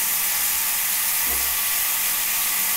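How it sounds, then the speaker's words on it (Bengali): Long, thin strips of eggplant fry in oil with salt, turmeric and a little sugar, giving a steady, close sizzle and hiss that carries on unbroken with no talk. "বেগুনটা তো ভাজতেই হবে, নুন হলুদ একটু চিনি দিয়ে ভেজে নিই"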